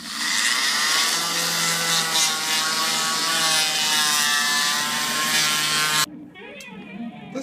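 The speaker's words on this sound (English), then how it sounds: "It occurs to me that I could actually use the multi-tool with this blade." An oscillating multi-tool cuts along the edge of a vinyl window, a loud steady buzzing whine with stacked harmonics running for about six seconds before it stops abruptly, leaving faint scraping and handling sounds.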